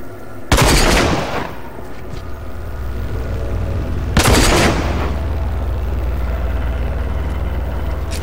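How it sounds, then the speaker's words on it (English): Two heavy sniper rifle shots in the video game RAGE, each a loud sharp crack with a rolling echoing tail, a few seconds apart over a steady low background hum. "Oh, snipers."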